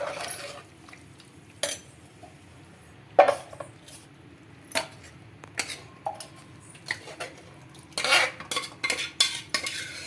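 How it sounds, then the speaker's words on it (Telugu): A spoon scooping broad bean curry from a pan into a bowl, making scattered, sharp metallic scrapes and clinks at irregular intervals over a quiet background. "ఇప్పుడు ఒక గిన్నెలోకి అయితే తీసేసుకుంటున్నాను కర్రీని"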